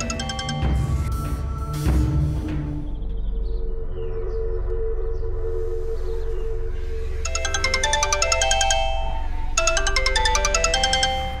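A mobile phone ringtone plays a bright repeating melodic pattern in two bursts over a low droning background score and earlier heavy musical hits, loud and close, with no talking.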